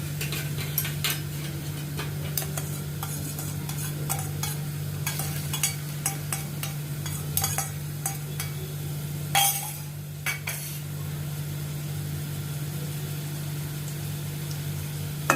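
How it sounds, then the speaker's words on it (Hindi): Finely chopped onion sautés in refined oil over a high gas flame, a low steady sizzle under frequent spatula scrapes and clicks on the pan, with a constant hum behind it. "इसको मैं थोड़ा सौते करती हूँ।"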